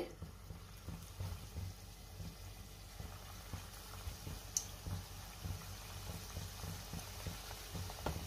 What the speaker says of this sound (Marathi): तेल गरम झाले, तेलामध्ये मी भजी सोडते।